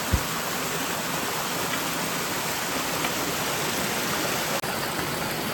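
River water rushes in a steady, broadband roar at Kotwal village, continuous and fairly close, with no voices and only a faint click near the end.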